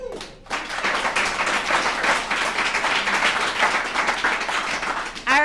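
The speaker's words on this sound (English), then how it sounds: "Give them another round of applause" Sustained applause from the audience at a recovery alumni meeting, a dense, even roar of many hands clapping that carries loud and continuous after a brief pause at the start, with no talking over it.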